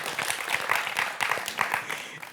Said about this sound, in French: On applaudit Lucie quand même